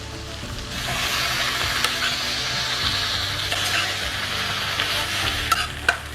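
Sliced tomatoes added to a hot pan for jackfruit curry give a steady, close sizzle and frying hiss, with a few sharp clicks of stirring against the pan near the end.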